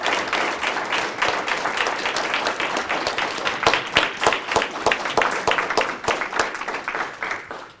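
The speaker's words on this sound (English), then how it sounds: "So I want to give a round of applause to every participant here today." An audience at a Black History essay and oratory contest claps for the participants, with dense, steady applause of many hands at a fairly close range that thins and fades near the end.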